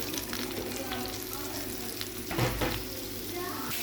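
Vegetables fry in chicken oil in a wok, with a steady loud sizzle throughout and a brief stir or clatter midway.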